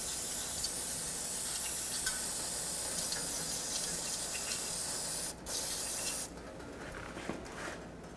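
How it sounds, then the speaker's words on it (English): A steady, loud aerosol hiss of brake parts cleaner sprayed around a crankshaft position sensor on a Chevy Express 3500 continues for several seconds, with a brief break, then a quieter hissing tail as the spray tapers off. "I'm just gonna spray a little bit of brake parts cleaner around the sensor"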